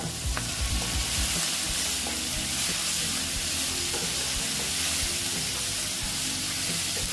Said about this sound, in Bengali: দিয়ে আবার আমি এটা ভেজে দেখো তার সঙ্গে আমি দিয়ে দিচ্ছি আদা রসুনের পেস্টটা